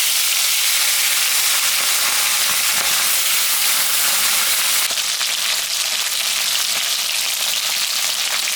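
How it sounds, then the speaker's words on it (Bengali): Rohu fish frying in hot mustard oil, a steady, loud sizzle and crackle of fish in the pan, continuous and close, with no talking. "মাছটা এখন আমি ভাজ।"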